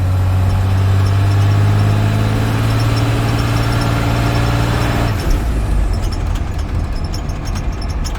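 A 12-valve Cummins diesel in a truck with a restored fuel supply revs hard under load, a steady loud drone that falls as the gear changes, then carries on with roaring and whining sounds.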